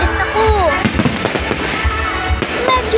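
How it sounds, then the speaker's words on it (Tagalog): Fireworks burst one after another in the night, sharp booms and crackles mixed with whistling rockets, loud and close, while people talk throughout. "Medyo sunod-sunod na nga ang pagpuputok ng fireworks."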